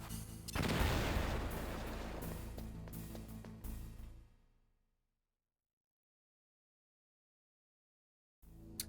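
An explosive charge detonating in Metal Gear Solid on hard difficulty: a single heavy blast with a rumbling tail that fades to silence over a few seconds, followed by a brief later noise.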